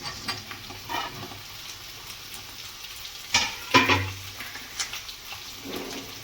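Boiled potatoes and salted peanuts stirred in a pan for a dry potato bhaji, with faint sizzling and a few scraping, clattering strokes, the loudest around the middle, alone without talk.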